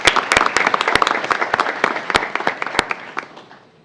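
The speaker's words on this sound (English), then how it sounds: "Round of applause for her family who's here this evening as well." An audience at a Lacey Township High School board meeting applauds a senior of the month and her family; dense, close clapping mixed with sharp individual claps, sustained for several seconds before tapering off.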